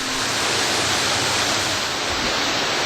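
A waterfall in Scotts Gulf canyon roars as a dense, unbroken wash of falling water, loud and close, with no voices over it.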